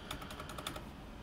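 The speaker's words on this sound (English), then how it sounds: "So just when you click a key like that" Rapid clicking of keys on a backlit computer keyboard fitted with Xylent V2 switches, a quick run of light, close, even-paced taps in a quiet home office, with no one speaking.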